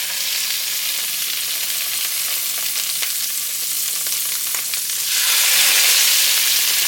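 Salmon sizzles steadily in a pan of hot oil and butter, a bright continuous crackle that turns louder and hissier near the end as the fish settles in the fat.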